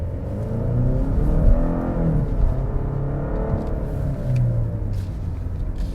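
A 2021 Genesis G80 2.5T four-cylinder sedan accelerates hard from 0 to 60, its engine giving a steady loud droning rumble that rises and falls slightly in pitch through the run.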